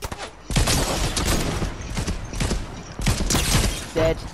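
Rapid bursts of gunfire in the Fortnite video game, loud and close, firing in sustained volleys with brief pauses between them, interleaved with mechanical clicks and clatter.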